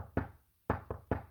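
Ritual knocking by the officer in the role of Aries, three sharp raps in a short uneven pattern, a single knock followed by two closer together, close and clear with no voices.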